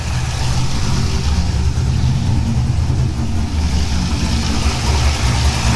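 A C5 Corvette engine runs steadily at idle, its deep low rumble constant and close throughout, with a busy mechanical wash on top and no voices.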